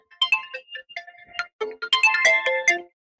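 A phone ringtone plays an incoming-call melody of bright, clear electronic tones in short bursts, loud and close with no talk over it.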